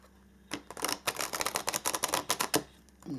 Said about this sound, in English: let us see if we can shuffle these huge cards